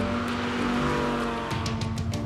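An Audi R8 V10 Plus coupé with a 5.2-litre naturally aspirated V10 drives close by, its engine holding a steady droning tone, then shifting with sharp bursts near the end.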